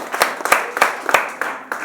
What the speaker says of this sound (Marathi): एकदा त्यांच्यासाठी टाळी वाजवूया आपण.